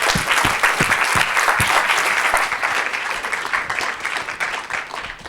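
Sustained applause from a TEDx Surrey audience at the end of a talk, a thick, even roar of many hands clapping with a few sharp nearby claps standing out, continuing throughout without speech.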